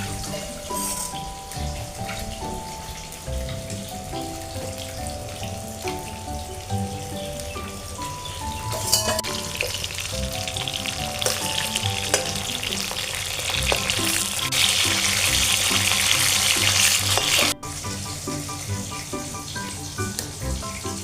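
Glasscup fish fry in oil over a clay stove with a continuous rain-like sizzle and fine crackles for about twenty seconds, building louder toward the end, over steady tonal sounds in the background.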